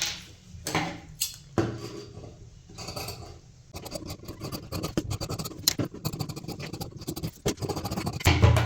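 Scissors cut through the marked back piece of a blouse fabric, a close run of dry crisp snips and scratches that start sparse and become dense and rapid toward the end.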